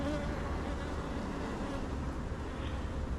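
Close, continuous buzzing of honeybees crowding an open hive frame of fresh capped brood and larvae, a brief steady drone with no speech.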